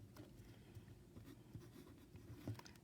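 Very faint scratching of writing on paper or a board during a math lesson, a few soft strokes over quiet background hum.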